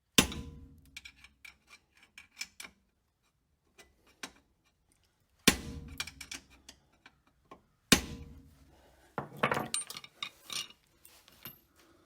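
A hammer knocks at a Jeep Cherokee trackbar bushing: three sharp, loud metallic blows spaced several seconds apart, with lighter clinks and taps between them in an otherwise quiet garage.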